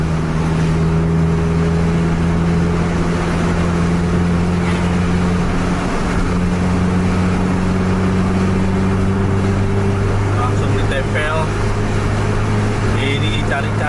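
Engine of a PMTOH intercity bus revving hard through its gears while chasing a Scania K-410 coach, a steady loud droning hum with rising and falling pitch and road rush throughout.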